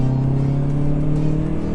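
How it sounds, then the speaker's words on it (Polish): Hyundai i30N Performance hatchback accelerating, its engine and exhaust giving a steady, loud droning hum heard from inside the car, with no speech. "samochód świetnie się zbiera"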